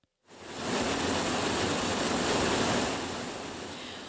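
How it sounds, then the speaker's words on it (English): Floodwater rushing like a river down a residential street in Studio City during an atmospheric-river storm, a loud, steady broadband roar of churning water that swells in after a brief silence and holds throughout. "Water flows like a river down a residential street in Studio City."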